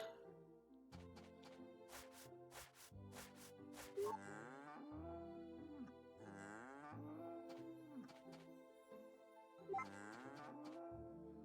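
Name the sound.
cows mooing in video game Story of Seasons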